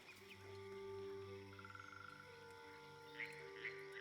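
A frog croaks in Baldur's Gate 3, a low, repeated throaty call with a quick rattling pulse, set over a quiet game ambience with a few faint chirps.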